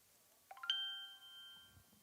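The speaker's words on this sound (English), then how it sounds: "Yes, that is Mr. Conley's phone" A mobile phone rings at a high school baseball game: a single bright electronic ding-dong chime with sustained tones, fairly faint and alone against quiet background, followed by low rustling.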